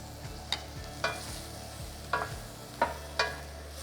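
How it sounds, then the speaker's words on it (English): Mushrooms cooking in melted butter in a pan for beef stroganoff, a soft sizzle under repeated sharp scrapes and taps of a utensil stirring, close and intermittent. "I love mushrooms, so I always put a little bit more than what my recipe calls for. And we're gonna put a little bit of the butter in"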